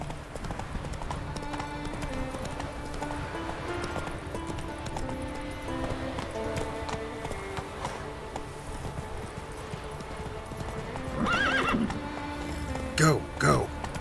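Roach the horse from The Witcher 3 game, steady hoofbeats under speech, then a burst of neighing and a louder clatter of hooves near the end.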